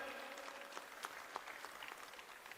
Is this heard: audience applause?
yes